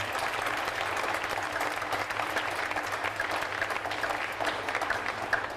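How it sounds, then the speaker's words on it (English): Steady applause from a large audience at the opening ceremony of the Iowa State Fair, a dense even clatter of hands that holds at one level for the whole stretch with no voices over it. "Let's give them a round of applause as well."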